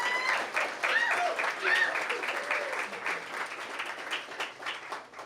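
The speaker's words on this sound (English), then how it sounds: "Clap it up again for Mr. Michael Rivlin." Luncheon guests clap in a moderate, uneven burst of applause that swells and fades over about five seconds, with some voices and cheers mixed in.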